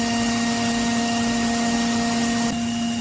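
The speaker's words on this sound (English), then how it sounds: "our 1/8 inch 3-flute end mill that's roughing out the through slots for the bolt" A CNC mill cuts through-slots with a 1/8 inch 3-flute end mill, giving a steady, loud high-pitched whine with a constant tonal hum and airy cutting noise throughout, which shifts slightly near the end.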